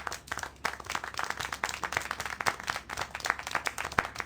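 A small group claps in the Syberia: The World Before video game, steady scattered applause at moderate distance running throughout without a break.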